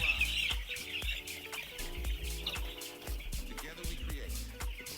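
Broiler chicks in a winter brooder cheep and cluck in a dense, continuous chorus, many overlapping calls close by.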